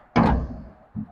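Tailgate of a Nissan Navara pickup truck slammed shut, a single solid thunk followed by a softer second knock a moment later, close and clear with no voices.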